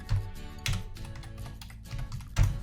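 Someone types a search on a computer keyboard, tapping keys up close in short uneven bursts with brief pauses between them, with no voices.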